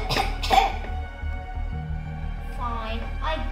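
A person imitates a cough in a storytelling scene, giving two sharp hacking bursts near the start, followed by a softer vocal murmur and brief voiced sounds.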